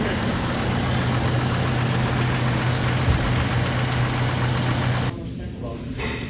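A car engine idles steadily after an oil change, a constant low rumble filling most of the clip before dropping off sharply near the end.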